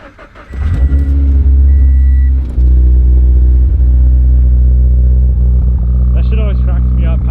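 A car with a cheap aftermarket exhaust that only exits one side idles loudly and close by, a deep steady rumble with a brief rev near the start and a voice talking over it toward the end.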